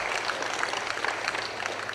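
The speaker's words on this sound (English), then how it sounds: "If you want to give them a round of applause for passing the budget." Applause from an audience at a groundbreaking ceremony, a soft, steady patter of clapping heard from a distance, continuous throughout.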